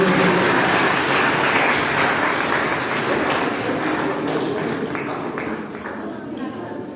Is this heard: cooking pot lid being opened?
no